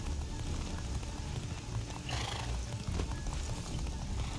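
Horse neighing in the video game Castlevania: Lords of Shadow, a short whinny rising out of a steady rumbling game background.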